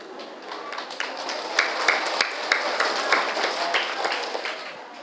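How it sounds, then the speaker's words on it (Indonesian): Audience clapping in a lively burst of many hands, individual claps audible as quick sharp taps within a steady applause that holds throughout, with faint voices underneath. "Dari bunyi tepuk tangannya ada orangnya di situ."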